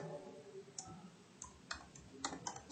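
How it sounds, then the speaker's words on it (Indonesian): Keys on a computer keyboard are tapped in a sparse, irregular run of close, light clicks, a few quick strokes clustered toward the end over a quiet background. "Kita tinggal ketik di sini terbilang"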